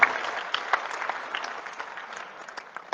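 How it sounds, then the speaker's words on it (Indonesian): Applause for the IPA chairman at a formal gathering, a moderate, steady patter of many hands clapping in a hall, with scattered sharper claps standing out. "berikan tepuk tangan kepada Ketua Umum IPA, Bapak Kapolri Hanafah"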